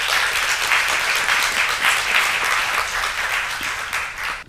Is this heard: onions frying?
no